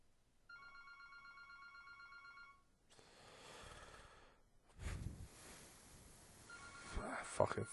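A telephone rings in repeated electronic trills for a few seconds, fairly quiet, then gives way to rustling, handling noise and a sigh.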